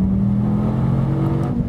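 A 2013 SRT Viper GTS engine roars loud and close as the car powers out of a hairpin with slight oversteer, a steady low drone with no talk.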